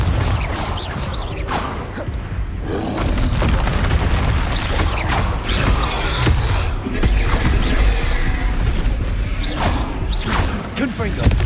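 Confringo blasting spells exploding in Hogwarts Legacy, a run of booming impacts and crackling blasts in quick succession over continuous magical whooshes and rumble, loud and dense throughout.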